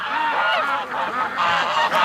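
Geese over a lake honk loudly and close in a rapid, overlapping run of calls, one honk after another with no talking.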